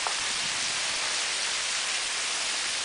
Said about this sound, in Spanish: Ahorita está lloviendo, está escurriendo